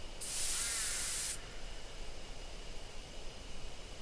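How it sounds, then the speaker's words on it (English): A sprayer in the horror game Death Mark releases a single loud, steady hiss of drug spray lasting about a second, then fades to a low background hum. "I take a careful aim and spray the drug."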